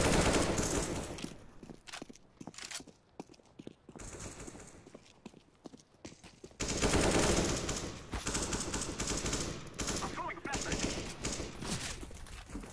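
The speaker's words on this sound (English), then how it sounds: "Wait, yellow's shooting." Gunfire in the video game CS:GO, bursts of rapid automatic shots, sparse at first and then heavy and continuous in the second half, close and loud under game sounds.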